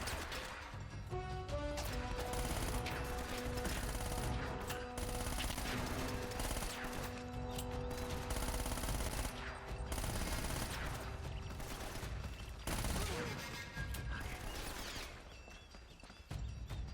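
Sustained gunfire in Uncharted: Drake's Fortune, with dense bursts of shots and crashing impacts across the whole stretch, layered over game music and ambience with no pauses.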